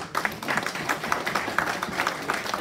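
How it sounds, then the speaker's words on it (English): Audience at a London Sportif annual award ceremony and kit launch gives a round of applause, a steady moderate patter of clapping from a mid-sized crowd with irregular brighter claps throughout. "Please can you give another round of applause?"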